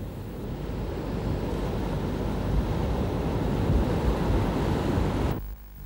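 Sea surf rolls in where the Kaveri river meets the ocean, a loud, continuous rushing roar with wind buffeting, easing off abruptly at the very end.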